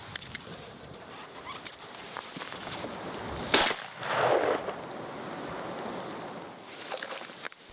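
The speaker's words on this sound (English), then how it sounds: "It's my very first shot with this gun ever." A single sharp shotgun blast from a 301 turkey thumbhole shotgun cracks outdoors midway through, followed by a brief rushing echo, against faint background noise.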